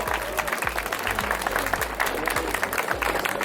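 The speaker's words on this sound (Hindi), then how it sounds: "मैं चाहूंगा जोरदार तालियां हो जाए DSP सर के लिए" Audience applause at a public health event in Theog, a dense steady patter of clapping with repeated low thumps running beneath it throughout.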